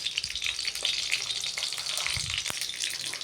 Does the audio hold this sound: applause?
no